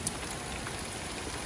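Heavy rain falls in a steady, even hiss of drops on surfaces, continuous and fairly soft, with no voices.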